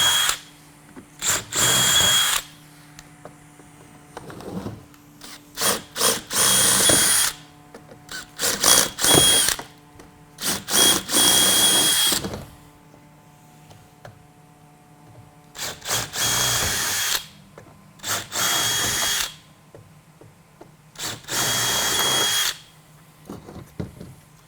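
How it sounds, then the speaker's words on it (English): A power drill bores out rivets from a caster wheel housing on a Wilson edge caster, whining in repeated bursts of a few seconds each, close and loud, with short pauses between each rivet. "Now he's going to take all the rivets out of the housing itself."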